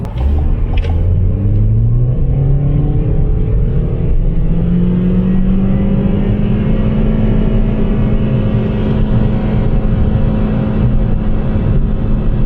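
Car running on LPG accelerating hard from standstill to 100 km/h, engine droning with rising pitch through gear changes, loud and steady from inside the cabin.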